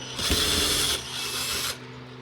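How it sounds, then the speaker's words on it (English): Screws are undone on a leaking van roof sealed with Sikaflex 221, giving one close, sustained rasping mechanical whir of about a second and a half before it cuts off. "first port of call, undo the screws"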